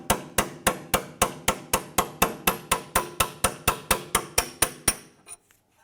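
Steady series of about twenty sharp metallic hammer strikes on a punch driving out a sway bar link bolt on a 2004-2008 Acura TL, evenly spaced and loud and close, then a final lighter tap.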